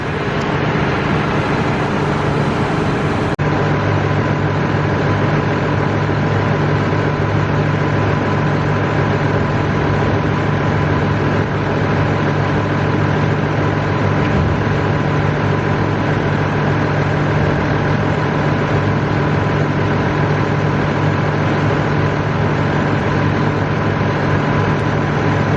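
A machine with a bucket idles and runs steadily while clearing tyres, its heavy, low engine drone constant and loud throughout with no talk.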